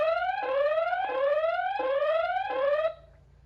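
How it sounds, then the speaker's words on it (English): A 2K Wi-Fi security camera's loud electronic siren sweeps upward in pitch four times in a regular rising wail, then cuts off abruptly. "there's an opportunity to go in here and hit the siren"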